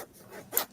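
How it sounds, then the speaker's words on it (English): A zipper on a hiking backpack is pulled in one short, close rasping run that ends in a brighter burst, fairly quiet and heard alone. "It does have really decent zippers."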